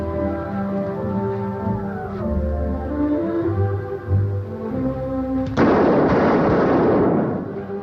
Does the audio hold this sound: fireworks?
yes